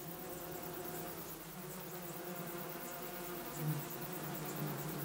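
A large hanging multi-layered nest of more than ten thousand bees, a young colony, hums with a steady dense buzz that holds evenly throughout, close and continuous with no voices.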